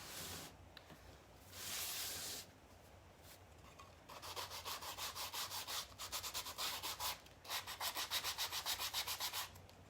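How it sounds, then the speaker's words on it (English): Chalk paste being scraped up from a Chalk Couture project, a dry rubbing scrape repeated in quick rhythmic strokes, close and moderately loud, with no talking. "Let's scrape this up just a little bit"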